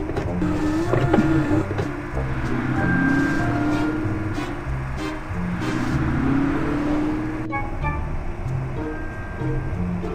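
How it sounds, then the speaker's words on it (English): A bus engine starts in the children's video game Baby Panda's Town: Bus Driver, humming and whirring steadily with a rising, synthetic-sounding tone, joined by a few short electronic beeps near the end. "Let's start the bus. Move the shifter and let's go!"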